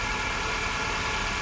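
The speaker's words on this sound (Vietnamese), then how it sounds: "đây là phần hệ thống tổng quan của động cơ khoang máy của chiếc Hyundai Getz sản xuất 2008" A 2008 Hyundai Getz with a 1.1-litre engine, imported from Korea, idles smoothly in its engine bay, giving a steady, continuous mid-pitched hum with no speech over it.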